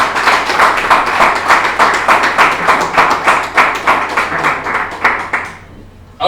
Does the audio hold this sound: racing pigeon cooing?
no